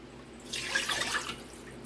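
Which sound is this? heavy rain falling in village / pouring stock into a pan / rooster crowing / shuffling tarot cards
pouring stock into a pan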